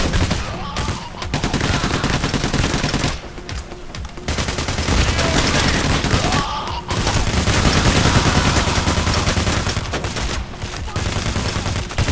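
Rapid gunfire rattles through a heist shootout in Payday: The Heist, loud sustained automatic bursts broken by a few short pauses, with a voice faintly present in the mix.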